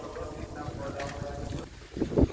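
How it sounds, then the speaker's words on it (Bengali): Wind blowing outdoors in Kolkata after waterlogging, buffeting the microphone with low rumbling gusts that swell toward the end, fairly faint overall, with a voice faintly present. "হাওয়া দিচ্ছে কি সুন্দর, দেখেছো?"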